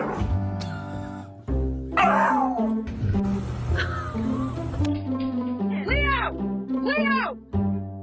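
A dog facing a crab lets out repeated high whimpers and sharp little yips, close and fairly loud over a steady tonal backing.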